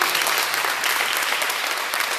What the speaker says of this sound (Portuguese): Aplauda o Senhor pela vida do Marco.